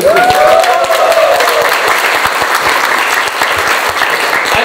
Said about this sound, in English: make more noise for Andy.